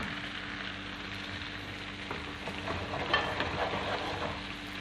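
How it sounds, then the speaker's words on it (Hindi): White cumin seeds sizzle in plenty of melted butter for a dal makhani tempering, a steady crackling hiss like rain with scattered pops, close and continuous. "बटर ऑलमोस्ट मेल्ट हो गया है। अब मैं ऐड कर रही हूँ सफ़ेद ज़ीरा।"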